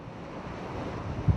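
Rough open-sea wind and high waves rumble around a hospital ship anchored off a small island, a steady low roar of surf and gusting wind with a soft thump near the end, no voices.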